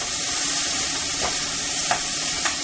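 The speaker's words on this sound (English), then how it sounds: "we're going to stir the couscous around until it starts to develop a little color" Israeli couscous being stirred and toasted in a hot pan: a constant close frying hiss with a few soft spoon scrapes.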